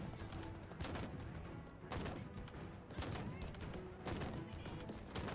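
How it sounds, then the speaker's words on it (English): Repeated pistol shots from an alien grunt's weapon in a Halo-style shooter, loud bursts recurring roughly every second amid dense game noise and effects, with a voice speaking at points. "Oh, it's a grunt pistol, I think."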